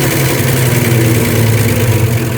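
Ford F100 with a swapped engine catching and running, a loud, steady close-up rumble with a constant low hum and no breaks.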